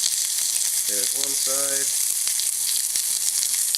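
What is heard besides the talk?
steak searing in a hot pan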